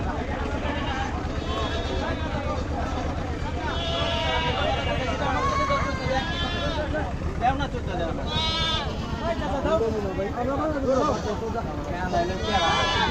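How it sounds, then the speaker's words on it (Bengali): Goats bleat over and over at a busy village livestock market, their cries overlapping with a constant babble of buyers and sellers talking nearby. "আমরা এই পাশটায় আরও ছাগল দেখতেছি"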